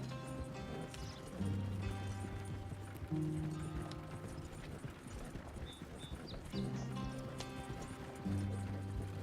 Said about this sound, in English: Oh, are those horses? Feral horses?